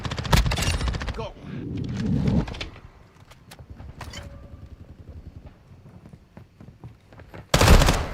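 Gunfire from Call of Duty Modern Warfare II, with a loud burst of rapid shots at the start, scattered quieter cracks through the middle, and another sharp loud burst near the end, amid game noise and brief voices.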